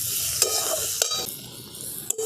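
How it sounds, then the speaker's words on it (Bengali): Potato and onion fry in a pan with a close, loud sizzle while a spatula scrapes and knocks in a few sharp strokes, no talk. "দেখুন আলু আর পেঁয়াজটা ভালো করে ভাজা ভাজা করে নিয়েছি।"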